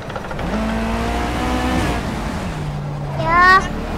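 Race car engine sounds from the Project CARS video game play through a Logitech G27 setup, with revs rising and falling and a brief louder surge near the end. A voice talks over the engine.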